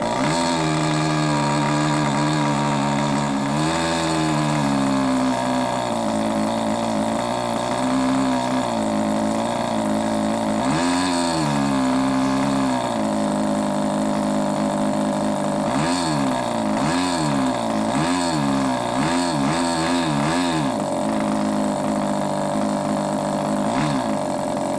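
A homemade micro engine with a muffler fitted to its exhaust pipes runs loud and continuous, its buzzing note revving up and down in repeated swells.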